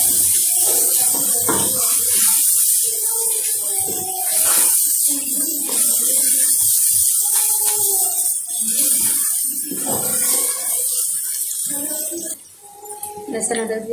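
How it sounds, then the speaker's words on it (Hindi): Garlic-ginger paste fries in hot oil with onions in a pot, a continuous close hiss and sizzle running under a person's speaking voice, easing briefly near the end. "प्याज फ्राई हो रहे हैं तो हम इसमें शामिल कर देते हैं लहसुन अदरक का पेस्ट"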